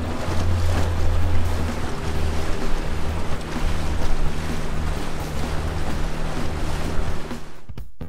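A motorboat crossing windy Lake Eildon on an autumn fishing trip, its engine droning low and steady under wind buffeting and water wash, close and continuous until a sudden cut at the end.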